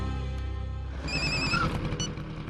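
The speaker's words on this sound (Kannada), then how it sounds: "ಫೋನ್ ರಿಂಗ್ ಆಗ್ತಿದೆ, ರಿಸೀವ್ ಮಾಡ್ತಿಲ್ಲ" A telephone rings in a tense home scene, a repeated electronic bell tone that starts after a low rumbling passage and sounds clearly in the foreground.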